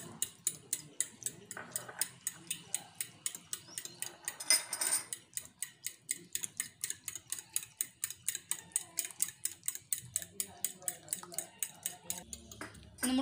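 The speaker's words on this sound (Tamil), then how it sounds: "கொஞ்சம் கொஞ்சமாக ஊற்றி நல்லா கிண்டி விட்டுக்குங்க" A utensil beats beaten egg and milk in a bowl for chicken batter, a fast, regular ticking clatter close up that runs throughout, with brief pauses and faint background noise.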